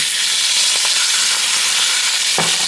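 A ribeye steak sizzles loudly in butter in a pan, with a dense, continuous hissing fry throughout and a brief scrape or shift near the end as the meat is moved.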